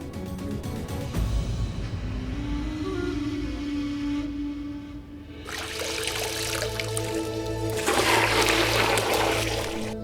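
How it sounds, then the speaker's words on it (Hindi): Water runs into a bucket, shifting from a rushing stream to trickles and splashes and then a louder gush near the end. "पानी की बाल्टी भर दी है।"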